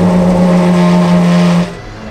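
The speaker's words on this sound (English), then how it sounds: "I wanted to go for a passenger lap with Pagani's test driver" A Pagani supercar engine on a race track lap, carried with a test driver at the wheel: a loud, close, droning engine note that holds steady for about a second and a half, then drops away sharply.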